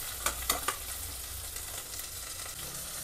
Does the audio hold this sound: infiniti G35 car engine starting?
no